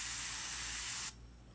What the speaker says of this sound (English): Spray on the side to test it.